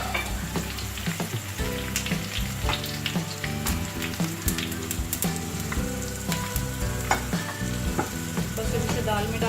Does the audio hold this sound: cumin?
yes